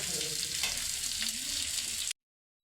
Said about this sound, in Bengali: কুচি করা পেঁয়াজ কুচি করা আদা আর কুচি করা লঙ্কা এগুলো আমি সব একসঙ্গে দিয়ে কিছুক্ষণ ভেজে নেব